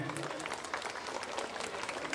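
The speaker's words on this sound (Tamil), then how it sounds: "அதனால் ஒரு கைத்தட்டல் கொடுக்கலாமே நீங்கள்" Audience applause at a school annual day function, a steady wash of clapping from a crowd filling the hall throughout, with some voices mixed in underneath.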